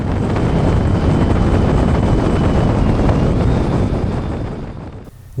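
Sustained roar of wind buffeting a helmet mic while riding a motorcycle along a tree-lined rural road in Spain, dense and loud throughout with engine rumble underneath, fading slightly near the end before cutting off.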